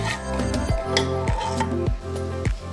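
Washed, drained rice sautéed with spices in hot oil, stirred in a pan with a soft sizzle and a rhythmic series of scraping strokes roughly every half second, close and without talk.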